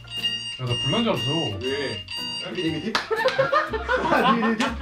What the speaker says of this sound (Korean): 아, 알람 알람.